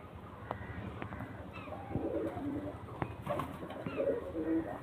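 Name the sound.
pigeons cooing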